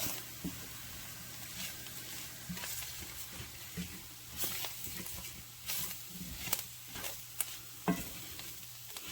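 Cube steak fries in oil in a pan, giving a soft, continuous sizzle with scattered pops and light clicks, fairly quiet and alone.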